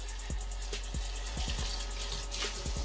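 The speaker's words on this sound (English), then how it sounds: "you're just going to want to rinse it out" Running water rinsing out the bowl of a 1L 450W Zelarca mini electric hot pot in a sink, a steady tap stream with a few soft knocks and clinks against the bowl, close and alone.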